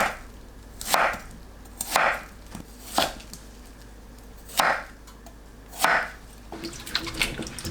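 A kitchen knife slices peeled Korean yam into rounds 1 to 1.5 cm thick on a cutting board, giving about six crisp, separate chops spaced a second or so apart, close and clear against faint water sounds.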